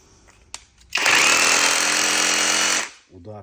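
A cordless impact wrench loosens a nut with a loud, sustained rapid hammering rattle lasting about two seconds. It is close and harsh, with brief clicks before it and softer handling noise after it stops.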